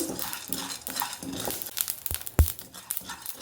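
Pepper, cumin and fenugreek dry roast in a hot pan, giving soft crackles, light scraping and stirring, and an occasional sharper tap of utensil on pan, all fairly quiet and close.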